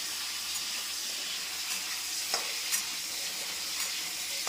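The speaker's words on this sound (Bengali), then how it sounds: "যখন দেখবেন কড়াইয়ের মধ্যে আলু বিট লাফাচ্ছে, গরম ভাইরাম দিচ্ছে কড়াইয়ের মধ্যে" Potato and beetroot pieces fry in a hot wok, giving a dense, continuous hissing sizzle with occasional stirring clinks close by and no voices.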